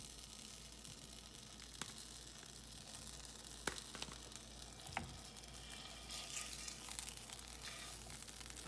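Potatoes fry in olive oil over medium heat, a faint, even sizzle with occasional crackles and soft stirring taps, heard alone over a low hum.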